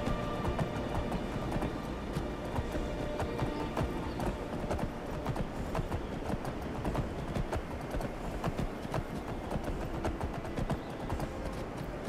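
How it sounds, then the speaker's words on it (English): A horse gallops in Skyrim, with rapid, steady hoofbeats that continue throughout at a consistent, moderately close level, with no talking over them. "Come on, horse, let's go."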